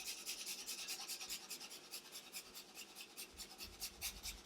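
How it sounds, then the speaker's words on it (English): Garlic cloves rasp against a grater in quick, regular strokes. The scraping is faint and close, runs steadily for a few seconds, and has no talk over it. "I'm going to grate some garlic."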